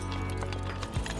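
Young horses move about a rodeo bullpen, with quick hoof clops and thuds over a steady background hum in a short, moderately faint burst.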